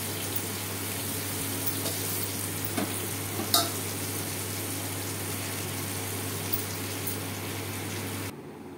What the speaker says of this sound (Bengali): এইভাবে আমি বাকি আলুগুলো ভেজে নেব